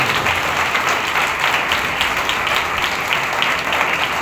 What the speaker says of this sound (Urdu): سارے نمائیں آئے زوردار تالیاں بجائیں خدا کے نام